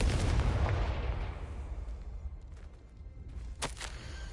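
A Confringo fire spell in Hogwarts Legacy bursts out as a loud, broad explosive blast that fades over a couple of seconds, followed by a brief sharp crackle near the end.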